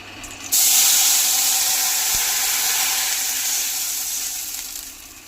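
Water poured into a hot pan of spice-tempered oil, with dried chilli, for a Bengali hilsa fish curry, bursts into a loud, steady hiss and sizzle that slowly fades over several seconds.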